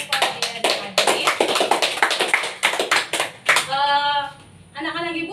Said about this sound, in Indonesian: Silahkan beri aplaus kepada Slamet, Yova, Dea, dan Adit